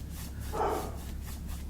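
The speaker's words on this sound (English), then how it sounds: "My dogs are barking at something." A dog gives a single short bark, muffled and slightly distant indoors, over a low steady background hum.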